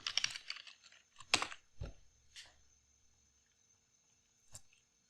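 A command is typed on a computer keyboard in a handful of sharp, irregular key clicks and taps, heard close and alone in a quiet room.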